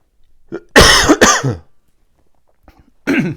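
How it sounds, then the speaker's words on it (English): Several sharp, harsh coughs from someone with a cold come in a quick pair, followed after a pause by another cough, close to the listener. "Doing quite well not to cough up to this point."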